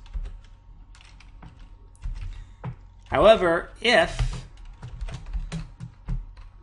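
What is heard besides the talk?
typing on a computer keyboard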